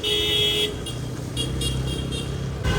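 Busy road traffic in a flooded street after sudden heavy rain rumbles steadily while a car horn toots in a sustained blast, then several short honks follow over the engine noise.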